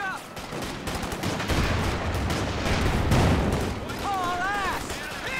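Machine gun fire in Company of Heroes 2, dense overlapping bursts of rattling gunfire and distant booms in a loud battle scene, with radio-style unit chatter chirping over it.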